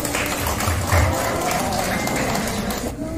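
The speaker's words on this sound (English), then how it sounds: "Let's give them a round of applause" Audience applause at a graduation ceremony where technical diplomas are awarded: a dense, steady wash of clapping that stays loud and even for about three seconds before easing slightly at the end.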